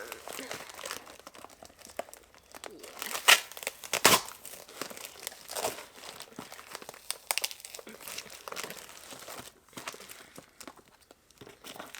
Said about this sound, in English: Second package opened.